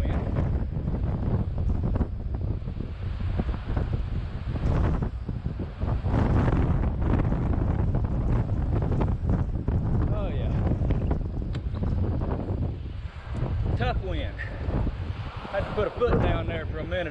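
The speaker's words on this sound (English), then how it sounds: "Hoping some of this mesh up here will knock some of the wind off. Hopefully, because it is really a hard cross wind." Hard crosswind buffets the microphone on the Salisbury Viaduct near Meyersdale, Pennsylvania, a loud continuous rumbling roar that surges and eases in gusts, with a voice speaking over it at times.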